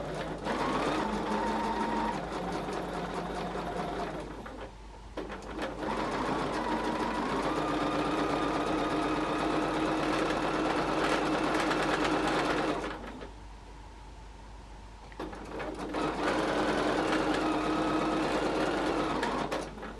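A sewing machine free-motion quilting to secure layers of leftover fabric and batting whirs in close, steady runs of rapid stitching, with a short pause around the middle and another near the end.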